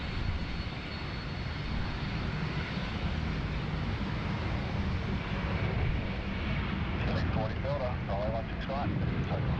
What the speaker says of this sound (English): there is an aircraft coming down the runway